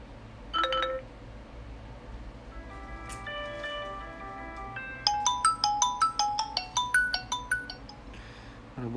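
A smartphone speaker test plays ringtone melodies through the settings menu: a short chime, then a held electronic tone sequence, then a bright, rhythmic, repeating ringtone that grows louder, alone with no talk.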